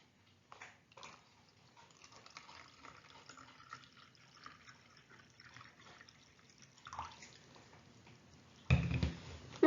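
Water pours into a one-cup measuring container, a faint, steady trickle with small splashes, ending in a louder bump near the end.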